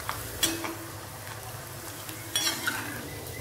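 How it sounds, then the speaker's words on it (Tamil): Oil crackles and sizzles steadily as rice vadagam fries, with a couple of sharper pops and faint utensil clinks close by. "பொரிக்கிறேன் பாருங்கள், சூப்பராக பொரிஞ்சிருச்சு."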